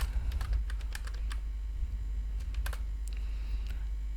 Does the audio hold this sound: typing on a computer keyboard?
yes